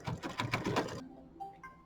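A computerized embroidery machine satin stitching in red thread on a small quilt block, giving a rapid, steady mechanical chatter for about a second before stopping, followed by a few faint clicks and soft tones close by.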